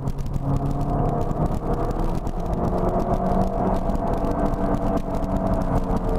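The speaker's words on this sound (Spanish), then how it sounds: "sueltas el acelerador, y regresan las revoluciones, eh, a veces puede llegar a escuchar el, es muy muy ligero porque pues es el turbo original" A Mini Cooper S with its original turbo rumbles along at close range while the throttle is released, the engine note dropping and settling with only a very light turbo whoosh; no voices.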